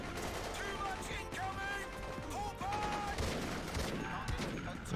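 Rapid gunfire pops and crackles in Battlefield 2: Modern Combat on Xbox One X, sharp shots from a shotgun and other weapons mixed with battlefield noise, while someone talks over the fighting.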